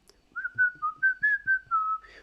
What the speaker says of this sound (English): the sound, it's whether the milker is whistling